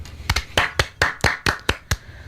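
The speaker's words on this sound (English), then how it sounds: "radio high five and round of applause for Doug" A short burst of hand claps from a small group on a radio show, about ten crisp, close claps over two seconds.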